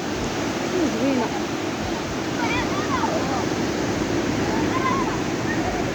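Sea waves at Taghazout beach near Agadir wash in a continuous, fairly loud rushing surf roar, with a person talking over the steady wash of water.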